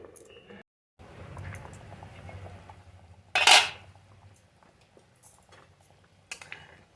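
A metal lid set down onto a cooking pot of chicken biryani gives one sharp, loud clink in a quiet kitchen, followed by a fainter clink of cookware moments later.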